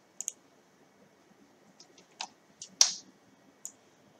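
A computer mouse clicks nearby in a quiet room, giving a handful of sharp, isolated clicks at irregular intervals, with a couple of quick double clicks.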